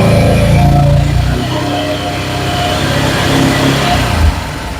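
Can-Am Defender UTV engine running close by, a steady loud idle with a brief rev toward the end, with no voices.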